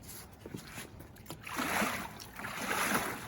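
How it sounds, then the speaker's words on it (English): Paddles dipping and pulling through lake water beside a small electric boat, giving a few close splashes and swishing strokes, two broader surges of sloshing water in steady rhythm with no talk over them. "unless you're willing to assist with your backup propulsion, which are these paddles"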